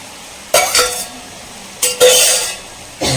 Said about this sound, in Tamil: நான் நல்லா வாஷ் பண்ணி எடுத்து வச்சுருக்கேன் சோயாபீன் மீன் மேக்கர் சேர்த்துக்கிறேன்.